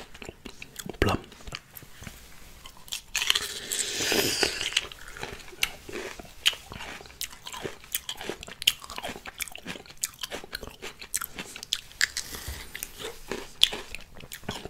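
Crunchy seasoned Thai pickled plum is bitten and chewed close to the mic, with crisp snaps followed by a run of wet, rhythmic crunching. Soft speech breaks in now and then.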